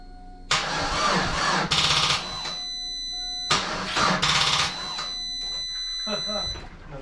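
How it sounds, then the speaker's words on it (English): A GMC Sonoma truck engine cranks in repeated bursts, several tries of whirring starter grind that nearly catch without running, with a steady electronic chime tone sounding throughout and a voice briefly heard near the end. "it almost starts. I just don't understand why it doesn't."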